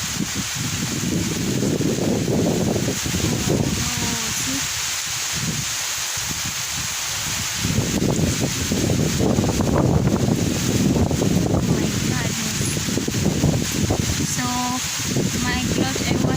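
Strong wind blows outdoors on a rainy, stormy day, a steady broadband roar with gusty surges that buffet the microphone throughout, loud and continuous.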